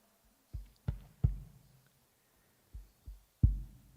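A drum is struck in soft double pulses like a heartbeat, two pairs of low thuds followed by a pause and then another pair, with each beat dull and resonant against near silence.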